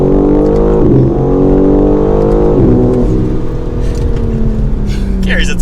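A 2022 BMW M4 Competition accelerating hard in second gear, a loud close engine note rising steadily in pitch, with brief dips at the shifts and a continuous throaty roar from inside the car.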